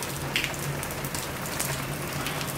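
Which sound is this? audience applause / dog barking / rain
rain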